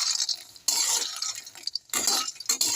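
Roasted makhana (fox nuts) is stirred in a kadhai over a low flame, giving dry rustling and scraping in short bursts with brief pauses, close and fairly quiet.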